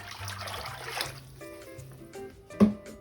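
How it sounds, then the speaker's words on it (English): Water poured into a soup pot of simmering chicken, ham and kielbasa sancocho broth, a soft uneven trickle and splash close by, ending in a brief louder slosh. "I'm gonna add another 2 quarts of water."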